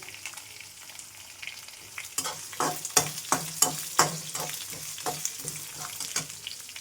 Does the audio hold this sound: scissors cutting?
no